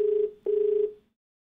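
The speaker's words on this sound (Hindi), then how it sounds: "चलिए फोन लगाते हैं अपने अगले कॉलर को" A telephone rings as a TV call-in show dials its next caller: two long, steady ring bursts separated by a short pause, clear and close, with no talking.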